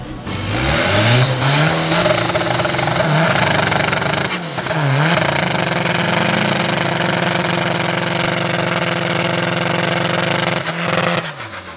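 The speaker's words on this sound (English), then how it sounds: "Next up is Eddie with a Cupra going up against Robert in the boosted Honda." Cupra and boosted Honda launching side by side in a drag race at Midvaal Raceway, loud engines revving hard at the start then holding a steady roar down the strip, with a brief lift and gear change partway and a dip near the end.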